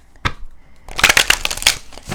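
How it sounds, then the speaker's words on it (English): Shiny tarot cards being shuffled by hand, a brief riffle followed by a longer run of dense papery slaps and flutters, close and fairly loud with no talk. "I'll give it one more shuffle."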